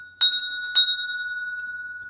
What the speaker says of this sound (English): It's a cast iron doorbell.